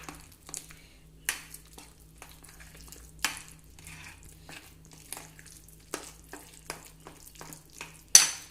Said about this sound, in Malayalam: ഇനി ഇതൊന്ന് നന്നായിട്ട് മിക്സ് ചെയ്യാം.